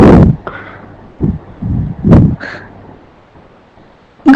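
A pet parrot squawks in a home, giving several loud, harsh, abrupt calls in irregular bursts with pauses between them, close to the microphone and with no talking.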